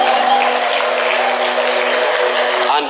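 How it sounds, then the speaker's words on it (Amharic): Applause and high ululation fill a church worship service, forming a loud, steady wash of clapping and trilling voices that lasts the whole moment without a break. "ለእግዚአብሔር ክብር ከፍ ያለ እልልታ፣ ጭብጨባ።"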